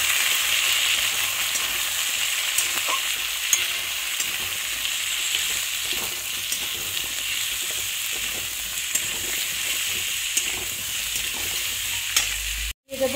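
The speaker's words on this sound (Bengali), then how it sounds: "এর মধ্যে কেটে রাখা সব সবজিগুলো দিয়ে দেবো।" Chopped vegetables fry in a pan for pui shak chorchori, a loud, steady sizzle and hiss running throughout with occasional light stirring clicks and no talking.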